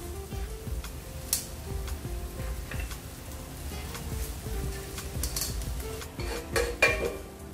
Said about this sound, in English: Now add the rice to the mix and start to give it a good mix.